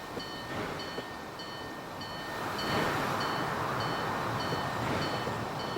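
Train running its first route in the Train World transport sim game, a steady rolling rumble with light rhythmic clicks and a swell near the middle, alone and moderately quiet.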